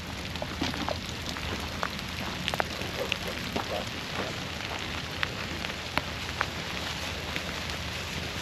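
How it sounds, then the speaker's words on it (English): Rain patters continuously at foggy Stone Mountain beside the water, a quiet broadband hiss with sharper drops and ticks popping out here and there. "Supposed to rain the entire day."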